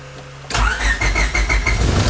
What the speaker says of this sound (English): See if this ignition works.